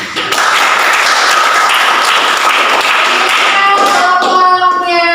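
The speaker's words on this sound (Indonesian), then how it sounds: "Berikan aplaus dulu." A classroom of students applauding, a dense, loud, continuous clatter of hand claps lasting several seconds before tapering as a voice starts to speak at the end.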